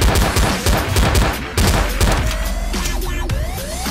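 Rapid gunfire in Garry's Mod DarkRP, a dense burst of loud close shots with sharp cracks and booms, thinning into scattered reports with lingering echoes.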